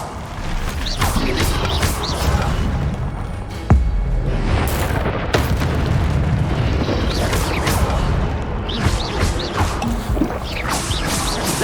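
A fire spell's fiery explosion in the Hogwarts Legacy video game: a sudden boom and crash near the middle of a dense, loud game soundscape, with crackling and rumbling around it.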